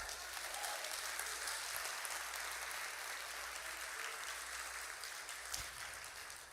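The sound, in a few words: congregation applause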